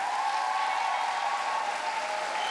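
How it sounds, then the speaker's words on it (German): Live comedy show audience applauding on cue, a continuous wash of clapping at moderate loudness with no gaps, slightly distant and mixed with a steady tonal hum in the room. "Applaus bitte jetzt."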